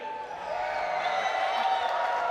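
A live esports crowd at the Apex Legends ALGS championship keeps up a steady roar of cheering and shouting, dense and sustained throughout with no pauses.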